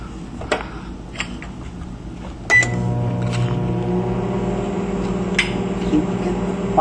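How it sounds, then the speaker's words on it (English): A microwave oven heats mustard packets, its steady loud hum starting abruptly partway through over a quieter background, with a few small clicks and pops. "today we're gonna microwave some soy sauce, some mustard, and sweet and sour"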